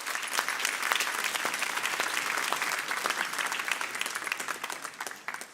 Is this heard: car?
no